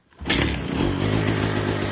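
A Kawasaki KMX 125 motorcycle with an old-style exhaust fires up and runs close by, a loud thump followed by a steady, rattling two-stroke idle with no voices.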